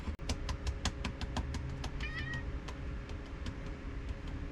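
A small indoor cat meows once or twice, close by, over a crackly, clicky background of shuffling and tapping from someone handling cards at a table.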